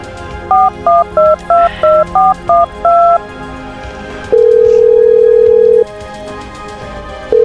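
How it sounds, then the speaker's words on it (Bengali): A telephone number being dialed as a quick run of about eight DTMF keypad tones, each a short two-note beep, followed by a long steady ringback tone and the start of another, loud and close with no talk. "দেখি মামারে ফোন দিই।"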